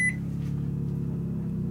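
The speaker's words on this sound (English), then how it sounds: "it just kicked my microwave on and off, and there it's off altogether." An RV microwave oven cutting off when the power overloads, a brief high beep at the start followed by a steady low electrical hum, close and clear with no voices.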